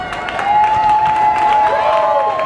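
Rugby crowd at a women's match applauding and cheering as the horn sounds near the end of the game, a steady wash of clapping and shouts at moderate distance with a sustained tone running through it.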